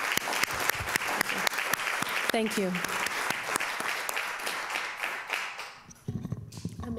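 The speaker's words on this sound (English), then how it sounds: "another big round of applause for all of the schools and all of their work" An audience at a board meeting claps with sharp, distinct hand claps that thin out toward the end. A voice briefly speaks over the applause.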